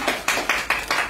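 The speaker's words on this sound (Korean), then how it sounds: "큰 박수로" Five crisp, evenly spaced hand claps close by, loud and clear over a faint background hum, with no voices.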